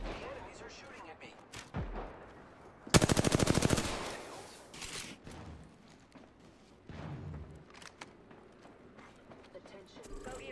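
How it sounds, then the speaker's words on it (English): Automatic gunfire from enemy players in an Apex Legends match on the Olympus map, a loud dense burst of rapid shots lasting about a second, with scattered quieter shots and game sounds before and after while a person talks. "The enemies are shooting at me."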